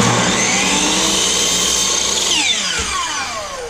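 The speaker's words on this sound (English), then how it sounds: "then miter saw, we've got a fine cutting blade on" A miter saw with a fine cutting blade runs loud and close as it cuts through wood slats, the motor whine holding steady and then winding down as the blade spins to a stop.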